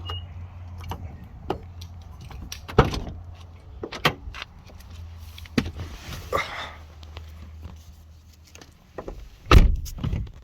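The door of a car being compared with a GTR and G35 opens with scattered clicks, latch clunks and handling knocks at close range, among soft rustling and no talking.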